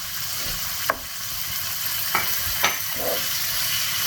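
Finely chopped, peeled tomatoes go into a frying prawn masala, a steady sizzle broken by a few sharp clinks and scrapes of a spoon stirring the pan, close and without voices.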